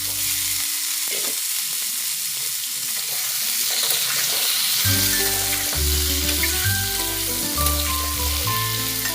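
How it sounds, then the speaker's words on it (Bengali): Pumpkin and potato pieces fry in hot oil with a bay leaf, giving a loud, steady, close sizzle throughout, with tonal sounds joining partway through. "এখন তেলে তেজপাতা ফোড়নে আমি মিষ্টি কুমড়ো আর আলুটা দিয়ে দেব।"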